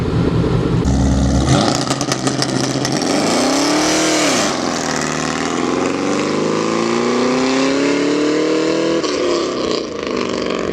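A Camaro SS engine on a 2-step launch limiter revs hard and loud up close, a steady high buzzing hold with a sweep in pitch, then a sustained roar.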